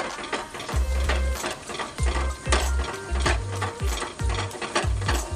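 Agri masala and Kashmiri red chili powder are stirred and sautéed in a pan for Kolhapuri chicken. A rhythmic series of low scraping thuds, roughly two per second, sits over a steady frying hiss.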